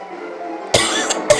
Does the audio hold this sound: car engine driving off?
no